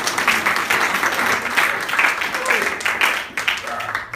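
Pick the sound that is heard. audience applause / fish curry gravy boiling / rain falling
audience applause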